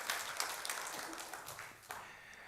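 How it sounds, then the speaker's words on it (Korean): Congregation applause in a church sanctuary after a sermon prayer, a diffuse wash of many hands clapping at moderate distance, fairly soft and steady with a few sharper claps, no voices over it. "하나님께 영광의 박수 올려드리겠습니다."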